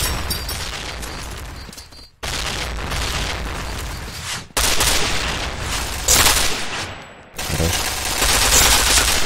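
Bursts of rapid gunfire and explosive booms from a shooter game on a ghetto-style map, loud and dense, cutting off abruptly between volleys.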